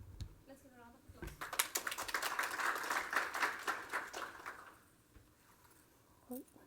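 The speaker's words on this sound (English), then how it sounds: "applause." Applause from a conference audience at a usable security and privacy symposium session, a dense burst of clapping rising after a voice and fading within a few seconds, followed by a brief bit of speech.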